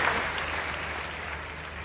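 Audience applause at a Hindi literature festival welcoming satirical poet Sampat Saral, a steady wash of clapping that holds evenly and fairly loud throughout with no voices over it.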